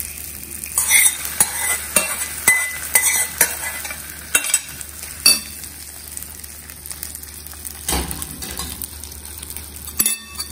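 Tempering stirred into South Indian curd rice: a spoon scrapes and clinks against the pot in a steady run of close strokes, with brief soft sizzling and no talk.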